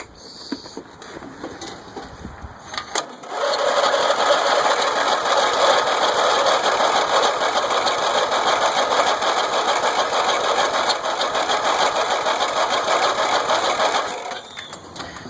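An old, previously flooded engine cranks briefly, then catches and runs at a steady, loud idle with a rattly, mid-pitched drone for about ten seconds before cutting out, with no talking over it.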